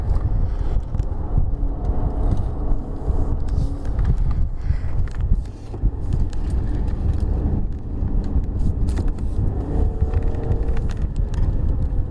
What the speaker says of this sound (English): we are roaring around in second gear.